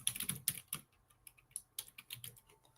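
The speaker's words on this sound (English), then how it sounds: "I'm trying to type it in, y'all." Close, quiet keyboard typing as an email address is entered, with irregular clusters of crisp key clicks separated by short pauses.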